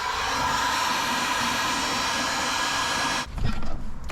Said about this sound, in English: Just need to blow some cold air on it now.